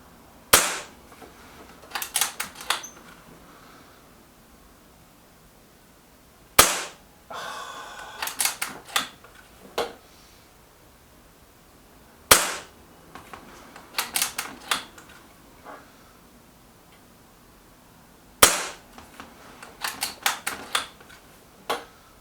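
A Gamo Coyote Tactical air rifle fires in four distinct sharp cracks spaced several seconds apart, each followed by a quick flurry of lighter clicks and handling noise, loud and close, with no talking.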